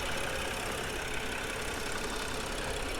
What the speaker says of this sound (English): the engine sounds great, sounds very healthy